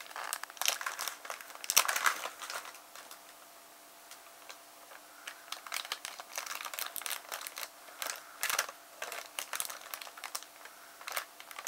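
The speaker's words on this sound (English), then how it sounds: "He likes the crinkling sound" Crinkly, crackling bursts of handled material come in irregular clusters, louder near the start and again toward the end, with a quieter stretch in the middle and no talking.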